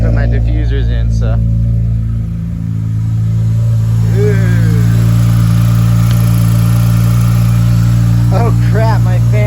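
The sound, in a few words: Honda Accord V6 engine idling with exhaust leak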